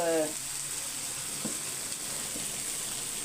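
Potatoes sautéing in a pan make a faint, steady sizzle, with a couple of soft stirring knocks against the pan.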